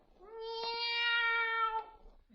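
A single drawn-out cat meow, high and tonal, rises and holds for over a second before fading, heard alone and fairly soft in a Halloween radio comedy scene at dusk.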